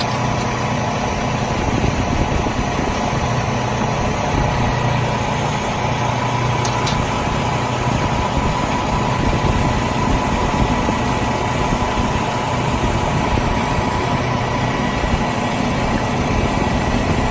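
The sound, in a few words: truck engine idling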